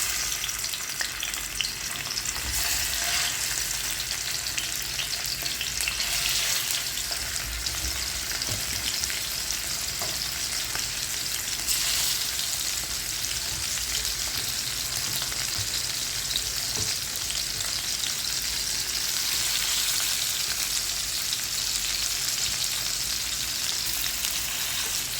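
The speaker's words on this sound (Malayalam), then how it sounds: "ഇനി മത്തി വറുത്തെടുക്കുക" Sardines fry steadily in a pan, a dense continuous sizzle holding at an even level from start to finish, with no voices.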